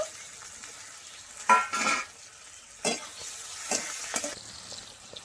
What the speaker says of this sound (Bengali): একসঙ্গে পেঁয়াজ টমেটো একটু ভালো করে ভেজে নেব।